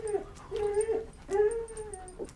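Labrador dogs whimper in a radio drama scene, two drawn-out, wavering whines rising and falling one after the other, close and fairly clear over a quiet room background with no talk.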